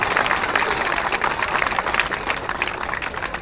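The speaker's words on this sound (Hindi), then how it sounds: "एक बार सब मिलकर खिलाड़ियों के लिए जोरदार तालियां बजा दीजिए" Loud, steady applause from a large crowd at an outdoor sports event honouring players, continuous clapping filling the whole stretch with no pause.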